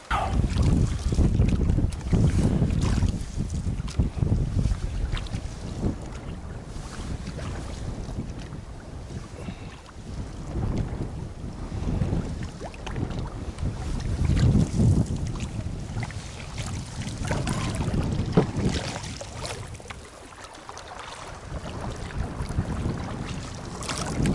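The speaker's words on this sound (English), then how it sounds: "paddle through the rain and the wind" Steady wind and rain buffet the microphone while water sloshes and splashes in rhythmic strokes of a canoe paddle working through choppy water, continuous and close.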